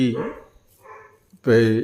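Dogs bark in short bursts outdoors on a road, one yelp early and a louder, longer bark near the end, with a quiet gap between.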